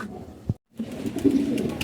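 A domestic racing pigeon coos softly nearby, a low murmuring call after a brief gap of silence, with faint room noise.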